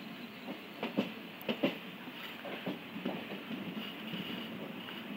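A train at Barahat Junction railway station platform rumbles faintly and steadily with soft, distant clattering and a few light knocks, quiet throughout and with no voices.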